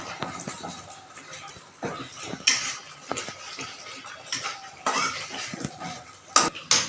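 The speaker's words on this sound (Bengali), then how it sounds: "একটু নেড়ে নেবে মাঝে মাঝে নাড়বে তলা দিয়ে লেগে না যায়" A spoon scrapes and clinks against a pan while cumin and coriander powder are stirred for a Bengali katla fish curry, with irregular metallic taps and scrapes, close and moderately loud.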